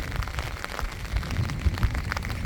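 Steady rain falls on surfaces outdoors in Thailand in the early morning, with dense pattering drops and occasional heavier low thuds throughout, and no voices.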